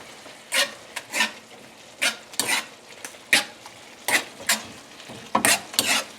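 Ground turkey keema with potatoes and cilantro stirred in a pan, a spoon scraping and pushing the food in regular strokes about twice a second over a soft background sizzle.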